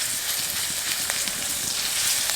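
Grated garlic sizzles steadily in hot white oil in a kadai, a close, continuous crackling fry with soft stirring clicks and no talk.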